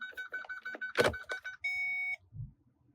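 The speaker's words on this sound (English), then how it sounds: "the reverse beepers are working" A steady electronic beeping tone from a Holden Statesman or Caprice's reverse beepers, sounding as a sustained pulse after some clicks and mechanical noises, then quiet.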